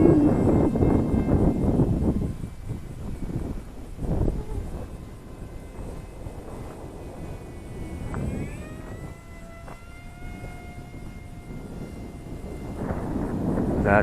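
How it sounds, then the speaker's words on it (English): Gusty wind buffets the microphone outdoors while a small King Kong/LDARC Tiny Wing 450 model airplane flies, with rumbling gusts rising and falling and a faint thin motor whine heard at times. "the wind is kicking up again"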